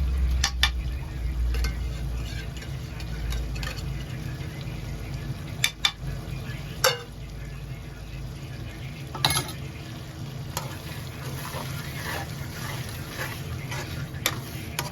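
Potato and tuna with masala fry in a pan with a continuous sizzle. A spoon stirring against the pan makes scattered scraping clicks, close up, with no speech.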